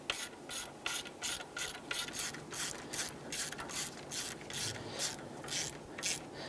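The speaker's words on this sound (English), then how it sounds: "we'll go ahead and put our ratchet on there. We'll go ahead and run those down." A hand ratchet runs down bolts on the EGR valve of a 1994–2004 Ford Mustang 3.8L V6, a quiet, close rapid clicking that comes in quick bursts with a steady back-and-forth rhythm.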